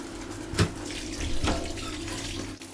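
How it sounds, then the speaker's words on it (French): Push-button shower on a Trans-Siberian train, running hot water in a steady close hiss and spray, with a couple of brief thumps and splashes near the start and middle. "Première douche dans un train et dans le transsibérien."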